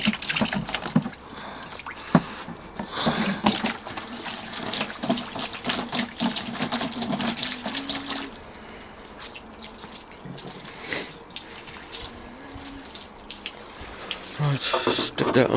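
Running water washes out a car's diesel particulate filter (DPF) part, making a continuous splashing, gurgling stream with drips and clatter. Someone talks intermittently over the water.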